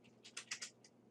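A few quiet computer keyboard keystrokes in quick uneven succession, soft clicks close by with no talking over them.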